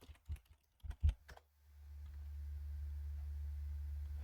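Keystrokes on a computer keyboard entering a Linux terminal command to upgrade packages, heard as a few quick close bursts of clicking that stop, followed by a steady low hum.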